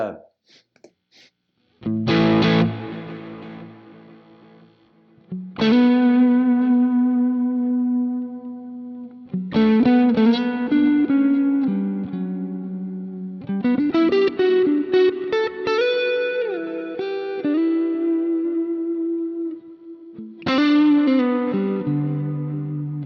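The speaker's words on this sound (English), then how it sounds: "he's got a myth drive and a tube screamer running through a Brit cab on the back end, and then you just got a little bit of ambience" Overdriven electric guitar run through a Quad Cortex chain of Mythic drive, Tube Screamer and a Brit cab with light ambience, playing loud sustained chords and bends separated by brief pauses, with a roomy reverb tail.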